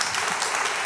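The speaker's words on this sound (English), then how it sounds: "a big round of applause and a warm welcome to Professor Basma Elahi" An audience claps steadily in a hall to welcome a speaker at an awards celebration, a dense, even wash of applause that is brief but fairly loud.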